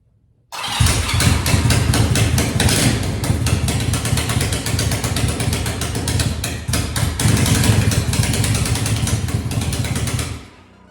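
A 1985 Honda Rebel motorcycle engine cranks and catches, then runs loud and steady at a rumbling idle for about ten seconds before cutting off.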